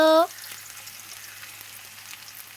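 Onion frying in hot oil in a home kitchen pan, a faint, steady sizzle that continues quietly after a brief tonal sound at the start.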